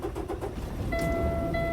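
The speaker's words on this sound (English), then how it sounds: "Start the truck." A manual-transmission truck engine cranks and starts inside the cab, a rough mechanical churn that settles into a steady idle with a sustained whine, fairly close and moderately loud.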